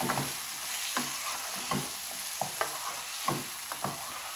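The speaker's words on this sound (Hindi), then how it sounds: "यहाँ पे बस मैं इतना सा नमक डालूंगी और अच्छी तरह इसको हम मिक्स कर लेंगे।" Salted chicken frying in a pan while being stirred, a steady background sizzle punctuated by several distinct scraping clacks of the spoon at uneven intervals, close by, with no one speaking.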